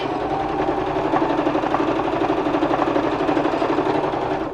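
A sewing machine runs steadily, stitching and back stitching a fabric face mask, its motor whirring continuously at close range with a faint rapid needle rhythm and no pauses.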